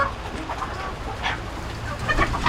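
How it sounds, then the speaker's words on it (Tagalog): Chickens cluck close by on a small backyard farm, a few scattered short calls over low ambient rumble, with no talk. "Ayan po yung ating mga manok."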